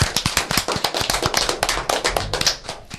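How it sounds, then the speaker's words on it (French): Audience applause at a French gathering, sounding as dense, brisk clapping from many hands, close and steady throughout with no talk over it. "on peut vous applaudir"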